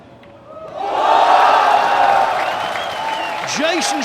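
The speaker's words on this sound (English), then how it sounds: "This crowd loving it." A crowd at a pool match, the 2024 Hanoi Open quarter-final, swells into loud cheering and applause after a shot and keeps roaring, with a commentator's voice over it.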